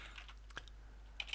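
Commands are typed on a computer keyboard in the Space Quest 3 game: a few quiet, scattered key clicks that bunch together near the end.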